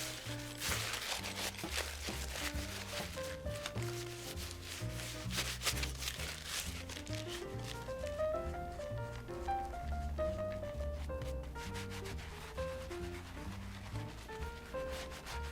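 Paper towels wiping the edges and heels of leather shoes, a continuous close rubbing and scuffing under steady background music.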